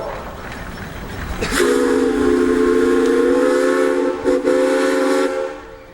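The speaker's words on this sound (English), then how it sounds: "All right, Wade, you got a whistle." A loud steam traction engine whistle blows at a threshers' steam show after a moment of background noise, holding a steady chord for about four seconds with a brief dip before fading.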